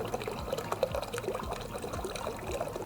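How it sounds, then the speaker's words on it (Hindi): Dirty water draining out of the nozzles of a softy ice cream machine during cleaning, a steady close trickle and splatter with small bubbling gurgles throughout. "आप देख सकते हैं इसमें से कितना गंदा पानी निकल रहा है क्योंकि मशीन अंदर से गंदी हो जाती है ना।"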